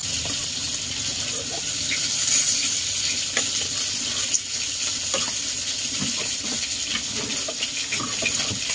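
Eel stir-frying in a pan with water just added makes a continuous watery hiss and bubbling sizzle, fairly loud and close, with scattered light clinks throughout.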